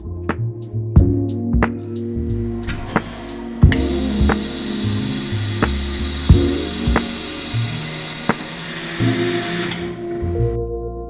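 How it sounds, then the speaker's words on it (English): A vacuum sealer pulls air from a bag of beets with a steady mechanical hum, clearly starting a few seconds in and running for several seconds before cutting off, over a backdrop of clinking kitchen sounds and background music. "we gotta vacuum seal it first"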